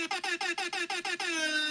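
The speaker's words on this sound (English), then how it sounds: "That is a lot of air horns." A rapid string of about eight loud air horn blasts, then one long sustained blare that fades out.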